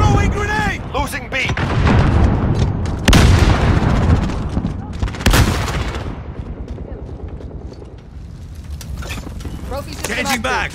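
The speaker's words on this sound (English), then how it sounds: "Throwing grenade." A grenade goes off in Call of Duty amid loud bursts of gunfire and booms, with sharp blasts over a dense battle din and in-game voices at the start and end.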